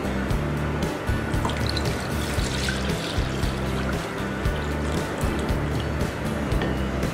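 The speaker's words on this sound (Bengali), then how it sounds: "এবার দুধটাকে আমি একটি বাটিতে ঢেলে নিচ্ছি।" Milk poured from a container into a bowl while making semai shahi tukra, a steady unbroken liquid stream with a soft trickling wash that runs for the whole stretch at moderate loudness.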